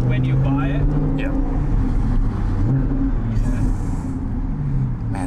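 Vegas Yellow Audi R8 engine droning loud and close from inside the car, a steady low rumble with pitch rising and falling slightly, while people talk over it.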